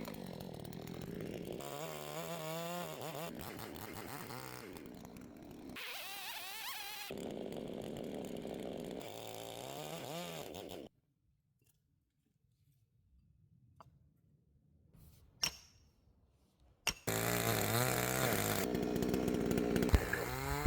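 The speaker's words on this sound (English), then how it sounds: "I can go in side by side with the smaller chainsaw and do the exact same thing" A small chainsaw buzzes loudly, revving up and down as it cuts into a tree stump, falls silent for several seconds, then roars back to full throttle.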